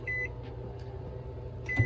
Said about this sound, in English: Open my microwave up.